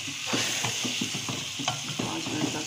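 Kalonji and methi seeds roasting in a pan for homemade pickle, stirred with a scraping spoon; soft steady sizzle under repeated light scrapes and clinks, no voices.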